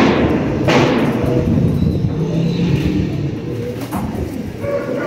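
Rampuri pigeons cooing close by, a continuous low throaty burble from several birds with a few soft thumps in the background.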